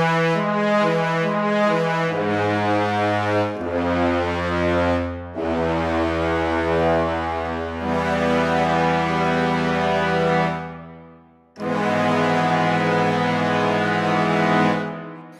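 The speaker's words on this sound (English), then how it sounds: "Let's just have a listen to these brass and woodwinds multi." Brass and woodwinds from the Sonuscore The Orchestra Complete sample library play loud, sustained chords that swell and shift in several long phrases, with a brief drop-out near the middle.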